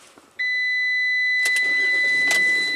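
A Ram ProMaster van engine starts: after a soft beep and a tonal chime, the engine catches abruptly and settles into a steady, loud, close idle with a couple of faint clicks.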